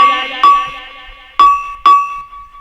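A bright metallic bell struck several times, each strike ringing out and slowly decaying before the next, with a pair of quick hits near the end.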